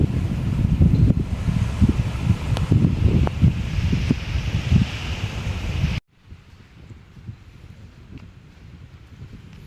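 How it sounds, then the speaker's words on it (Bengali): Roaring waves where a river opens toward the sea wash in continuously with wind buffeting the microphone, then the sound abruptly drops to a much quieter, low ambience. "ঢেউয়ের গর্জন"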